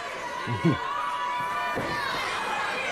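A wrestling crowd at a live show reacts to the referees with a steady roar of chatter and cheering, with scattered shouts and a couple of thuds, and commentary voices over it.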